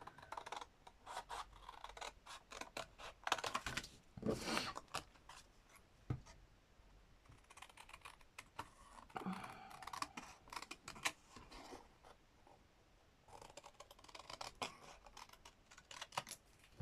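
Fabric scissors snip repeatedly through cloth while trimming an appliqué edge for a quilted play card, giving close, crisp blade clicks and scratchy cutting strokes in irregular bursts with short pauses, and no talking.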